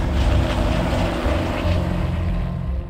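A helicopter carrying a wolf-capture crew flies steadily, a loud continuous low engine and rotor drone that stays close and even throughout without speech.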